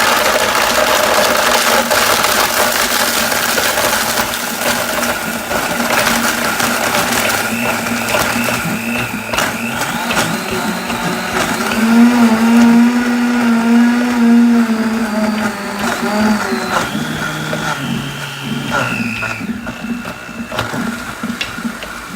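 A Vitamix blender crushing ice, a loud, steady motor whine with rattling and grinding from the ice that shifts in pitch as it runs, no voices over it.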